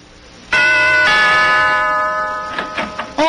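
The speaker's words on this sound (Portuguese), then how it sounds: "tem alguém agora tocando a campainha" A doorbell rings loudly and close, a long sustained two-tone chime that fades out, followed by a few faint knocks or taps.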